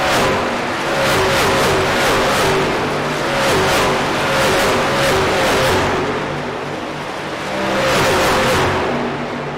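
Race cars roar past on the Iowa Speedway in repeated loud waves, engines rising and fading as the pack passes a fixed trackside camera, with continuous engine drone between passes.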